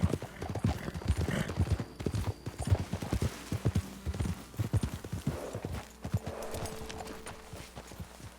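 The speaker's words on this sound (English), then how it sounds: "Best leave the horses back a bit." Several horses in Red Dead Redemption II walk at a steady pace, with close, clear hoof clip-clops in an irregular overlapping rhythm and a brief low snort, no talking over them.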